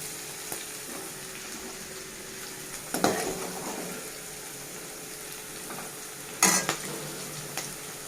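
Fried okra lifted out of a kadai onto a plate: a soft background sizzle with two clear metal scrapes and clinks of a spoon against the pan, and no voices.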